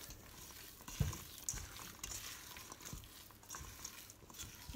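Partially frozen blueberries being stirred into thick lemon muffin dough, soft sticky squelching and scraping strokes at an uneven pace, close and quiet.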